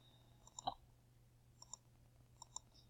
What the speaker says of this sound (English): So I'll just hurry and click those.